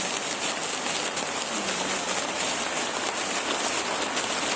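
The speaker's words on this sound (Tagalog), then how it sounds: "Lakas na naman ang ulan guys." Heavy rain pours steadily during a downpour after a long El Niño dry spell, a dense, continuous hiss of drops drumming on surfaces, loud and unbroken throughout with no talk.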